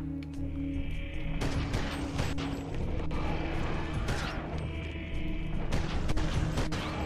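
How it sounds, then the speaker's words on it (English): Assault rifle fire in the video game Eternal Darkness, repeated sharp bursts and heavy impacts over a droning game soundscape, loud and close, recurring every second or so. "using that assault rifle"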